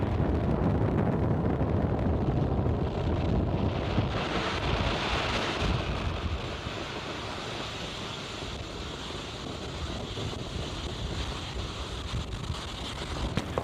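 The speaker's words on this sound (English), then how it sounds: "Falcon 9 has successfully lifted off from Slick 4E at Vandenberg" A SpaceX Falcon 9 rocket climbs away after liftoff from Vandenberg, a broad, distant rumbling roar that stays steady, then eases somewhat as it recedes, buffeted by wind on the microphone.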